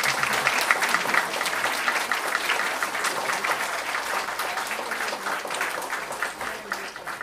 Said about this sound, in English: Let's put a big round of applause.